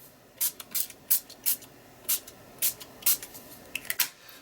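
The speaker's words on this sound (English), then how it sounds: "I've got Dilutions Campso Teal ink spray" Short, sharp hissing bursts from a spray bottle of teal ink, about a dozen quick pumps at an uneven pace, close and fairly loud over quiet background.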